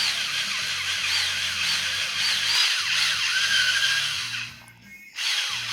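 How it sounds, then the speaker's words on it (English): A power drill whines steadily at close range, its motor pitch wavering as it bites, briefly stopping and then starting again. "Casually drilling holes on my carpet."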